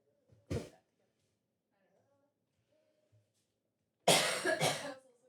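Two coughs in a quiet room: one short cough near the start, then a louder double cough after a pause.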